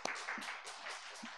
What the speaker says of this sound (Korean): 오늘도 우리 열심히 또 최선을 다해 공부하자는 의미에서 격려의 박수 한번 하고 시작할까요?